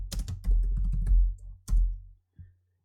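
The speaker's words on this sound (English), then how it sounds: "we're going to press Ctrl Enter on the keyboard" Ctrl and Enter are pressed on a computer keyboard while running code in R, giving a close cluster of clattering key clicks followed by a sharp single press and a faint final tap.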